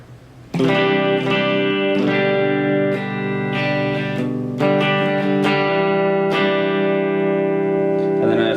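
Electric guitar playing rhythm through overdrive stages, a sustained chord struck and then restruck in several strums, with ringing harmonics and a light reverb tail, close and steady in level.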